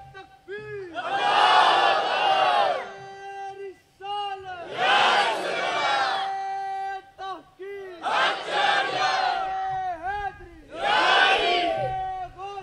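A large crowd at a religious gathering shouts a devotional slogan in unison, four loud drawn-out bursts separated by short pauses, with a leading voice calling each one.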